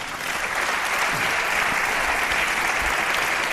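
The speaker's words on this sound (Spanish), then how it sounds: "Os pido un aplauso para él." An audience applauds continuously, a dense and even burst of many hands clapping at moderate loudness throughout, with no talk over it.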